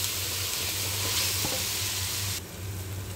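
Spices fry and are stirred in a pan with a close, bright sizzle and light scraping. The sizzle drops suddenly near the end, leaving a quieter hiss.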